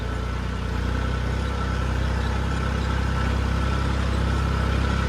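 A tractor engine runs steadily on a farm, a loud, constant low idle-like rumble with no breaks.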